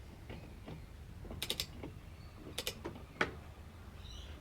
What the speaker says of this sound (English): I'll proceed to tighten the centre bolt up.